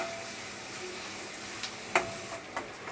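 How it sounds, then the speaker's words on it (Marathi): Chopped onion frying in oil in a pan for pav bhaji, a faint steady sizzle with a few soft spoon clicks and scrapes toward the end. "कांदा थोडासा हलका गुलाबी रंग येईपर्यंत आपण तेलामध्ये परतून घेऊया."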